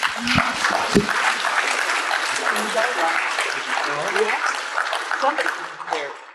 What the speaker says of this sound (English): let's give a round of applause for Ryan